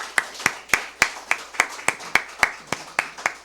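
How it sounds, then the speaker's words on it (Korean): A small church congregation claps in welcome during an Easter Sunday service at a Korean Methodist church, about twelve sharp, evenly spaced claps that ring out clearly in the room. "박수로 환영하겠습니다."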